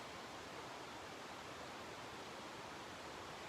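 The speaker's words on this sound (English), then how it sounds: "like living up to its name, there is a big creek, and just listen" A big creek rushes steadily beside a tent-only campsite, a dense, even wash of flowing water, close and continuous with no voices.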